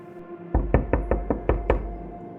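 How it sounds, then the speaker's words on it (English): Soft knocking on an apartment door: seven quick, evenly spaced raps in a short burst, close and distinct against a quiet room. "I was asleep when I suddenly woke up to a soft but distinct knock on the"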